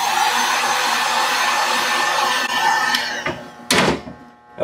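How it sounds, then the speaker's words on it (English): A heat gun blows steadily at close range to dry paint on craft foam being made into faux leather, a loud continuous roar that cuts out near the end, followed by a few knocks and clatters. "Now I'm going to go over that with my heat gun again to help dry it."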